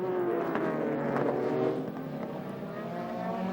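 GT300 race cars, the number 26 Tomo GT3R and the number 14 Hankook Porsche, battling for the lead, their engines a steady distant drone with a faint pitch shift as they pass.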